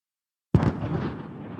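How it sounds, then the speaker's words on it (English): A single explosion sound effect from a royalty-free library bursts abruptly out of silence with a sharp, loud onset, then decays into a rumbling, crackling tail, heard alone. "Explosion, maybe. I found one."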